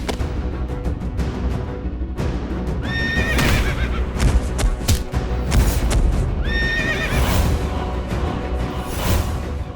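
Horses neigh and whinny with hooves clip-clopping in a legendary Indian royal contest setting, two loud whinnies standing out over continuous galloping hoofbeats and movement, no talk.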